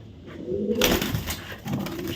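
A racing pigeon coos in low, soft bursts close by, alongside rustling and a brief flutter, with no talking.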